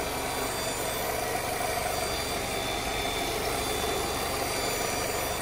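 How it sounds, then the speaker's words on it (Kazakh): A Nissan car that survived a crash sits idling, its engine giving a steady, even hum with a slight vibrating drone, close and constant with no talk. "Мотордың дауысын естіп тұрсыздар."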